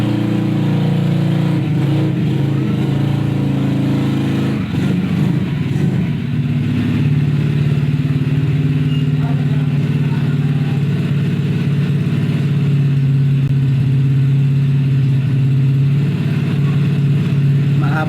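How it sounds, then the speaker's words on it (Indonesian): A motorcycle engine drones steadily and loudly throughout, with a slight rise in revs partway through and no pauses. "ada suara motor di sini"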